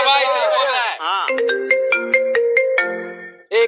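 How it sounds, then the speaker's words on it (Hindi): A mobile phone ringtone signals an incoming call, playing a bright melodic tune of repeated electronic notes close by and loud, preceded by a sung musical phrase. "1 मिनट रुको, मेरी बाबू का कॉल आ रहा है।"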